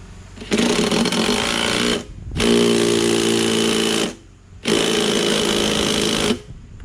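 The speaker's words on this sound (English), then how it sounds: "Put the nut on, 19 millimeter. 19mm impact." An impact wrench drives a 19 mm nut on a Toro Recycler mower with a Kohler XT675 engine, three loud, close rattling bursts of about one and a half to two seconds each, separated by short pauses.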